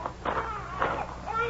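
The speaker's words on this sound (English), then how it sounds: "You could hear a baby crying" A baby cries in wavering, whimpering bursts, moderately close and fairly loud, over a faint background hiss, with no one talking.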